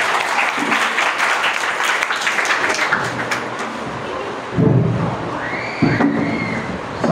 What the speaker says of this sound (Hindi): प्रिंसिपल सर के लिए जोरदार तालियां।